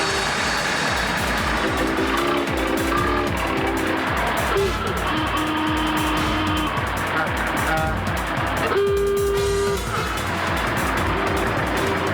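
Dense road traffic in a jam, with cars idling and engines rumbling continuously and a few horn-like tones, heard under ongoing talk.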